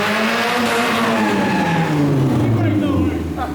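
Go-kart powered by a Miata engine, driving with a loud, raspy engine note that rises and falls steadily for a few seconds, with tire noise mixed in.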